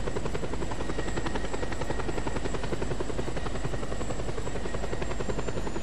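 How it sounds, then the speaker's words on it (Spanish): Helicopter in the video game Just Cause 2, its rotor chopping in a fast steady pulse with a constant engine whine, loud and close throughout with no talking. "Ese helicóptero es el amor de mi vida."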